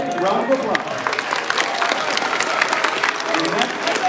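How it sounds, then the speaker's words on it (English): A crowd applauds graduating students at a middle school eighth grade graduation ceremony, steady dense clapping filling the whole stretch with voices mixed in. "Give them a big round of applause."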